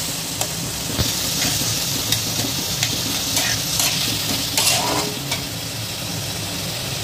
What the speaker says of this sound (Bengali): এইভাবে টমেটো, পেঁয়াজ, আদা, রসুন আর কাঁচা লঙ্কা, শুকনো লঙ্কাকে ভালোভাবে তেলের মধ্যে ফ্রাই করে নেব।